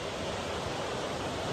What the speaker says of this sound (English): Anyone who came up to see the waterfall, oh, it gets loud here.